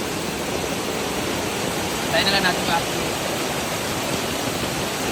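Rising floodwater rushes steadily past during heavy rain, a constant dense roar of flowing water near at hand, with a brief spoken remark over it.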